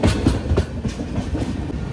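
The Charminar Express runs at speed, giving a continuous loud rumble with a rhythmic clickety-clack of wheels over rail joints, heard from inside the train.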